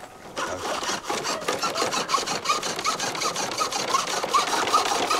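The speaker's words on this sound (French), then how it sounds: "Ah, mais oui, non, c'est une scie." A hand saw cutting through material in India. Steady, rapid back-and-forth rasping strokes sound close and moderately loud, with faint tonal ringing riding over the scraping.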